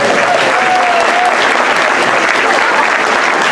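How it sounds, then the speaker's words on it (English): A crowd at an election hustings in Beaconsfield breaks into loud, sustained applause with some cheering, a dense roar of clapping filling the hall from start to finish. "big cheer, Bucks-Free Press"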